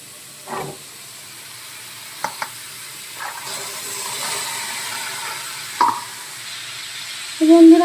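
Peas tipped into a pan of sizzling, well-fried spice masala for ghugni, a steady low frying hiss with a few soft clinks and stirring scrapes, then a brief louder burst of sizzle at the end.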